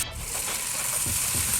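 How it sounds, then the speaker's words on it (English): Bourbon BBQ-sauced smoked chicken sizzles on a gas grill with burners on low, a continuous close, crackling hiss with a few soft bumps as pieces are placed. "Y'all hear that sizzle?"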